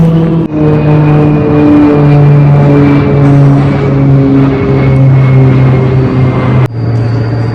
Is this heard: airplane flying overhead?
yes